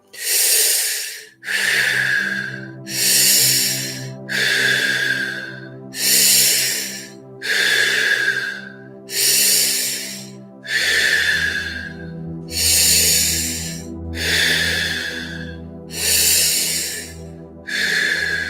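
Deep, forceful breathing during a breathwork exercise, with about ten long rhythmic breaths, each a loud rushing hiss close to the microphone, over a soft sustained musical drone.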